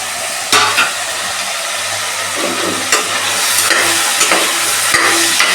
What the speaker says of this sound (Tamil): இந்த காய்கறியை நல்லா வதக்கணும்.